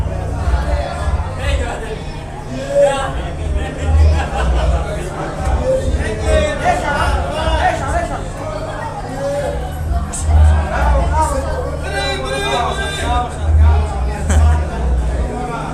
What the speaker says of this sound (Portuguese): E a torcida tá invadindo o campo.